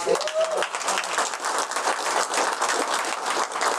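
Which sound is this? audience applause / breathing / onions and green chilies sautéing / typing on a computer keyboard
audience applause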